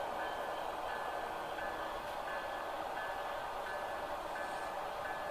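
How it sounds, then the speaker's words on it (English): A continuous mechanical rumble and whir of a model train led by two Intermountain Tier 4 GEVO locomotives without sound decoders running steadily on track, with a faint periodic tone and no voices. "So we'll go ahead and get that train moving."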